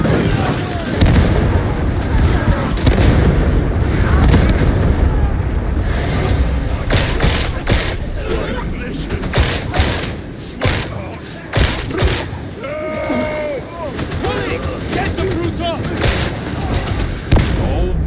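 Gunfire in the sci-fi shooter Darktide: a dense run of sharp shots and heavy thuds crackling over a loud, busy game mix, with voices talking between bursts.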